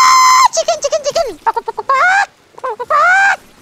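Chicken zombies in Plants vs Zombies 2 let out a loud run of squawks and honks: one long cry, a quick burst of short clucks, then two more drawn-out calls with a brief pause between them.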